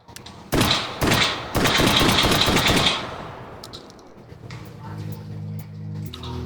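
A semi-auto shotgun in H3VR fires several loud, closely spaced blasts in quick succession, then the noise falls away to quieter handling sounds as a voice talks.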